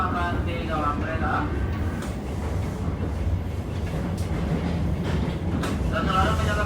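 An Indonesian passenger train on the Merak to Banyuwangi line rumbles steadily along the rails with a dense, continuous roar from inside a carriage, and faint voices come through now and then.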